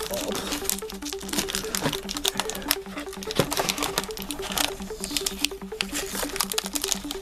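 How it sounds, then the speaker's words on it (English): Crinkling and rustling of tape and cardboard as Transformers Silverbolt toy packaging is untaped and a flap folded up, close and continuous, heard beneath a steady musical hum with a voice partly present. "so I have to untape it. And fold this flap up."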